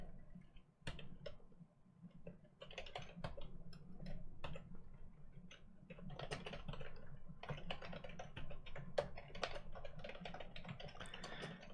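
Python code being typed on a computer keyboard: dense, irregular bursts of close key clicks with brief pauses, a steady quiet background and no voices.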